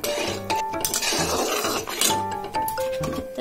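A vegetarian paneer curry is stirred in a metal pot, with repeated close clanks and scrapes of a spoon against the sides in short bursts.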